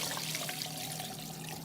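Beef stock poured over meat in a pot for boeuf à la mode, a steady continuous liquid stream splashing close up with no talk.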